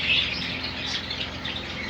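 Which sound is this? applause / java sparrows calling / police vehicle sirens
java sparrows calling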